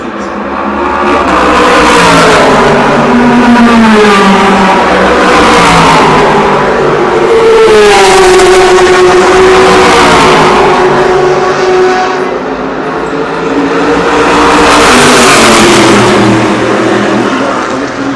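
Porsche prototype race cars roar past at the start of the 2015 24 Hours of Le Mans, loud engines surging and fading in repeated waves while a commentator talks over them.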